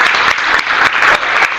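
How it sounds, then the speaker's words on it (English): A workshop room full of teachers clapping together, a thick continuous patter of many hands with small rhythmic surges, close and fairly loud, no voices on top. "Clap like him."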